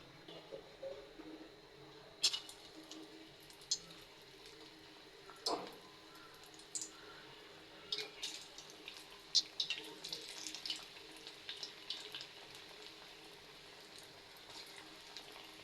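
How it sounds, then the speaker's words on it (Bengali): Onion fritters (piyaju) are dropped into hot oil, giving faint, scattered sizzles and sharp pops in bursts against a quiet background. "গরম তেলের মধ্যে ছেড়ে দেব।"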